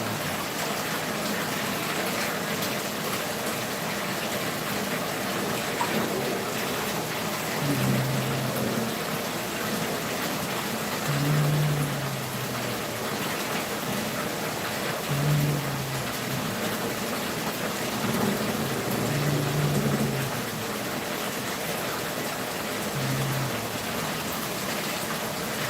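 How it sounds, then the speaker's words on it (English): Hot water pours into a bathtub in a steady, unbroken rush lasting nearly half a minute, with a few faint low tones appearing now and then beneath the flow. "Oh yeah, here comes the hot water."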